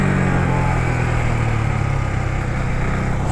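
A loud, close Husqvarna Vitpilen 401 motorcycle engine droning at steady revs, rumbling continuously throughout with no voices.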